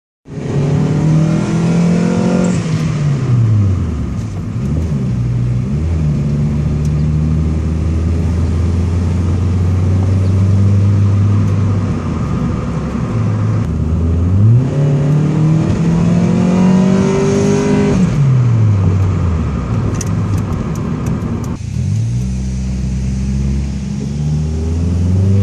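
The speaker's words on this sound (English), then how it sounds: "Just drive it around the corner here, you know, just try to get the paint off." A Mitsubishi Mirage car driving around a corner, its engine rising and falling through repeated loud accelerations and gear changes, heard close up and continuous.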